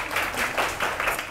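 Studio audience applause, a brisk burst of many hands clapping in uneven rhythmic waves, moderately loud and close, with little else beneath.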